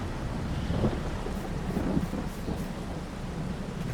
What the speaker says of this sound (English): I don't think you do any field work in the rain, do you?